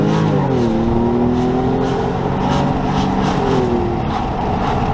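A Porsche 996 Carrera 4S flat-six engine, about 320 horsepower, pulling hard under acceleration, a loud continuous rising engine note with a gear change and steady climbing pitch heard from inside the car.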